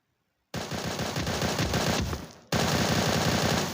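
Rapid automatic gunfire from the video game Bullet Angel, loud and continuous bursts after a brief silence, with a short dip before firing resumes at full intensity.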